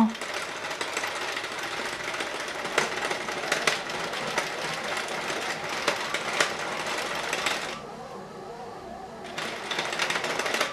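A bread machine runs with a steady mechanical whir and rattle, loud and close, with a brief drop in level near the end before resuming.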